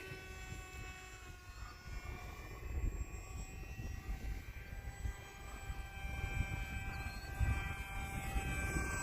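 A Hobbyzone Aeroscout S 1.1m RC plane flies with a thin, steady electric-motor whine that holds pitch, faint and somewhat distant over wind and outdoor rumble.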